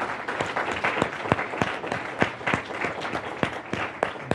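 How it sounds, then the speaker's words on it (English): Audience applause at a broadcast event for a school of motion pictures and television, with a steady wash of clapping and sharper individual claps standing out, fairly close and continuous throughout. "you guys should give yourself a hand of applause for just showing up"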